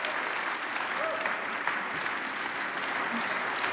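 Sustained audience applause greets a keynote speaker, the Head of XR for Europe, at a European XR ecosystem conference; dense steady clapping from a large crowd fills the whole stretch at an even level with no pauses.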